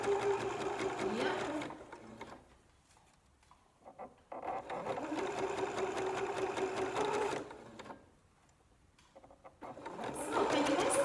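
A sewing machine backstitches on a t-shirt being upcycled into a bralette, running in short bursts separated by pauses, with a voice talking faintly in between.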